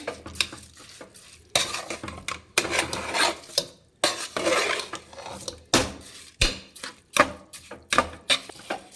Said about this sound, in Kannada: ಮಸಾಲೆಯಲ್ಲಿ ಅಕ್ಕಿನ ಚೆನ್ನಾಗಿ ಹುರಿಬೇಕು